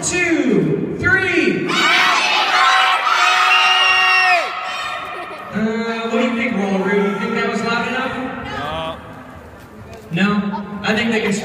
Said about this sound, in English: scream happy birthday as loud as you can